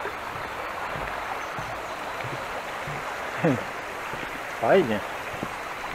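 Wapienica river flowing beneath a small wooden footbridge, a soft continuous watery rush at low level, with brief speech breaking in twice.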